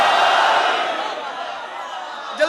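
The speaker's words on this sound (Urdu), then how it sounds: "جو بول سکتے ہیں مل کے نعرے حیدری" A majlis crowd shouts the Nara-e Haidari slogan together, a loud massed chant of many voices that starts strong and slowly fades, ending in a brief sharp burst.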